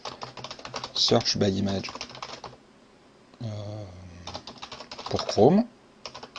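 Short bursts of computer keyboard typing clatter up close, alternating with someone speaking French between and over the keystrokes.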